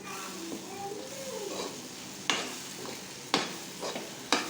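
A spoon stirs instant kidarangai pickle, a citron-like fruit pickle with salt, in a pan. Low sizzling runs throughout, with a few sharp scrapes of the spoon against the pan, all nearby and fairly quiet.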